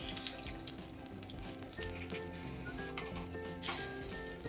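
Egg batter poured onto a hot paniyaram pan sizzles and crackles steadily, a continuous close frying hiss with bubbling, no talking.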